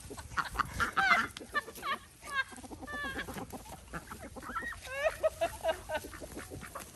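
Ducks on a homestead quack in repeated nasal bursts, several birds overlapping at close range over a noisy outdoor background.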